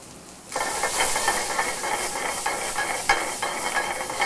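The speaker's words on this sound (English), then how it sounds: "Saute that for a little bit longer" Diced Roma tomato and garlic with seasoning salt hit a hot pan and break into steady hissing sizzle, with light stirring scrapes and ticks through the frying.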